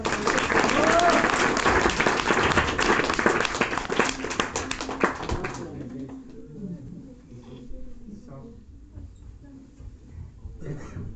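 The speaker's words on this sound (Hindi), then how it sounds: "एक बार तालियां बजाइए जरा" An audience at a club claps in a dense burst for about five seconds, then the applause fades out, leaving a quieter room with murmuring voices.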